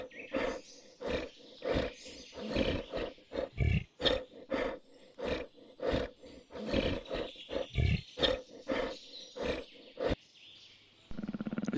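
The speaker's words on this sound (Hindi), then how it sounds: "टाइगर, इसे हिंदी में बाघ कहते हैं।" A tiger roars in a long series of loud, repeated bursts with short gaps, close and alone, ending in a brief different noise.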